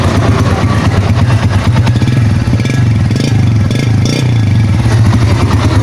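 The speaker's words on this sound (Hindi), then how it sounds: "ये हमारी बाइक स्टार्ट हो गई है।" A motorcycle converted from automatic to manual idles steadily up close, a continuous low rumble with mechanical clatter and a slight rise in revs partway through.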